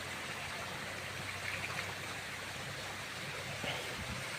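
Mountain river water flows steadily in a forested mountain setting, a continuous broadband rush with no clear breaks, moderately near and unaccompanied by talk.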